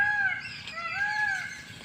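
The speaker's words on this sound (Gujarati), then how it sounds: "મોરલાનો અવાજ તમને કેવો લાગે છે" A peacock on a farm calls out twice in long, tonal cries at a moderate distance over a quiet outdoor background.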